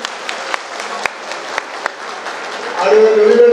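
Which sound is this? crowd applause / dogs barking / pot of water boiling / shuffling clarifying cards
crowd applause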